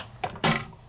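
A Sizzix Big Shot die-cutting machine gives a short click, then a single solid thump as the plates pass through the rollers, close by and brief in an otherwise quiet room.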